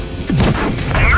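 A tank cannon fires in World of Tanks Blitz with a loud, close boom that rolls into a rumbling tail, and a voice speaks briefly over it.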